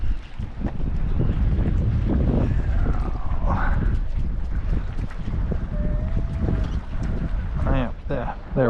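Cold wind gusting across an old cannery wharf in Eden, a steady loud rush buffeting the microphone throughout, with someone talking over it and faint squeaky tones near the end.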